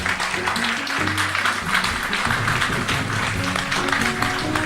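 Audience applause at the 2007 Bordeaux Grand Prix chess final, a dense continuous wash of many hands clapping steadily throughout, with a low hum beneath.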